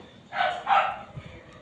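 A pet dog being fed in a backyard garden gives two quick, fairly loud barks close by, followed by faint scuffling and quiet.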